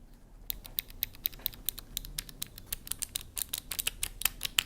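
Keys on a Vissles LP85 slim wireless opto-mechanical keyboard are pressed close to the microphone, giving a steady stream of crisp, light clicks in an uneven typing rhythm over a faint background hum.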